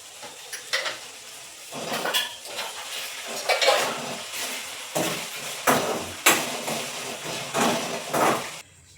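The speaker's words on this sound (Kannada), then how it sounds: "ಪಾತ್ರೆ ಅಂತೂ ತೊಳೆದೆ" Dishes and metal pots being washed by hand clink and clatter in irregular bursts, with scraping and knocking of metal pots between quieter moments, close at hand.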